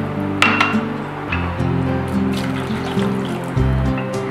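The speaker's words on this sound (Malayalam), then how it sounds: "ഇതിലേക്ക് അല്പം ഉപ്പിട്ട് 2 കപ്പ് തിളച്ച വെള്ളം ഒഴിക്കുക" Boiling water is poured from a vessel into salted rice flour for Kerala idiyappam, a steady trickle lasting several seconds, broken by a few clinks of metal and glass, up close with no talking.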